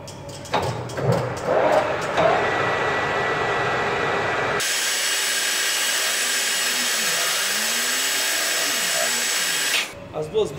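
Lathe turning a stainless steel bushing at around 800 RPM, giving a loud steady mechanical whine and hiss for several seconds, preceded by clattering workshop handling noises.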